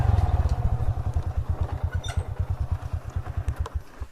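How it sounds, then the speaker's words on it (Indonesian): A banana collector's motorcycle idling nearby on a rural road, its single-cylinder engine thumping in a fast, even pulse that fades slightly toward the end. "Ini ada motornya bapaknya pengepul pisang"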